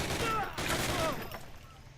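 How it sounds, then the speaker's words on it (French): A submachine gun fires in the Call of Duty Classic game as a dense, rapid burst of shots, loud and continuous for over a second before thinning out toward the end. "là on sort la mitraillette"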